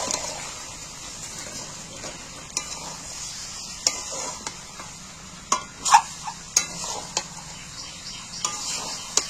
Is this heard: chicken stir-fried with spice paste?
yes